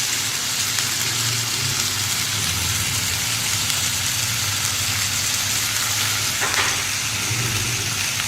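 Chicken with capsicum and freshly added green spring onion sizzle loudly in a hot pan, a dense, steady frying hiss that runs throughout without speech.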